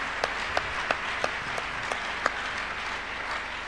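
Sparse, rhythmic hand claps from a church congregation during a Tuesday miracle service, about seven sharp claps spaced evenly over a soft crowd murmur, moderately distant.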